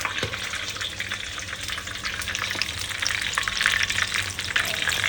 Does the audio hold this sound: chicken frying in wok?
yes